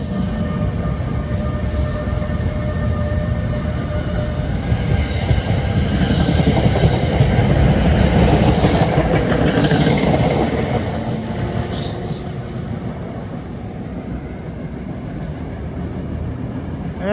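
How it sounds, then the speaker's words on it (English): NJ Transit train passing at Newark Broad Street station, a loud, continuous rail rumble with wheel clatter and faint high squeals that swells in the middle and then eases slightly. "The other train nearest to me was off to Hoboken."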